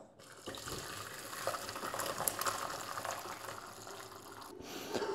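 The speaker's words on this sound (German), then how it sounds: "Und die Suppe passiere ich ab." Beef stew broth poured through a sieve in a home kitchen, a steady close splashing, trickling stream of liquid running for several seconds with no talk.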